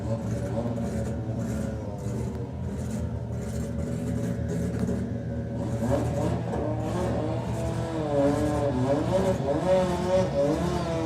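A 4-cylinder class drag racing car launches down the strip at a Doorslammers drag racing event, its engine revving hard and climbing through gears, loud and sustained with no talk over it.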